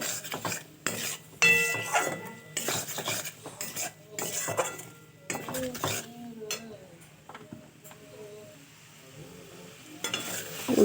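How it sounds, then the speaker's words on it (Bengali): A utensil scrapes and clinks against a pan while vegetables mixed with chowmein masala are stirred, giving irregular bursts of metallic scraping over a faint sizzle, with softer pauses between strokes. "চাউমিনের মশলাটার সাথে সব সবজি ভালো করে আর একবার নাড়িয়ে নিচ্ছি"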